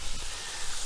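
Water sizzling and hissing steadily in a hot pan of tofu scramble, a continuous broadband steam hiss, close and fairly quiet.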